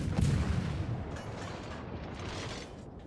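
The Akizuki's 100mm guns fire in World of Warships, a booming gunfire report with a rumbling tail, followed by continued low battle noise.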